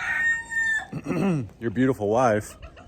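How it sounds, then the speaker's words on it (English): A rooster crows at close range, its drawn-out call stretching over a few seconds and rising and falling in pitch, with a short clucking note before it. "insists that you have this beautiful chicken rooster guy"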